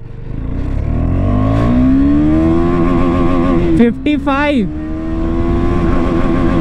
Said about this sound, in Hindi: फर्स्ट गियर पे बाइक अभी देखते हैं कितनी जाती है